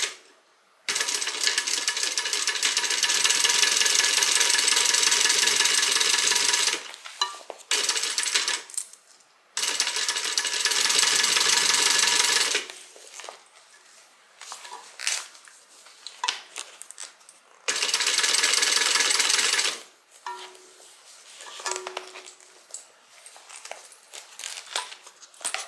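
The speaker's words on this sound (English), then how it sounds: "I am going to do a little bit of a back stitch." A home sewing machine back-stitching through a fabric carryall bag, with the gusset and binding being constructed. Loud bursts of running stitches in several long runs, separated by pauses and quieter handling noises, with no talking.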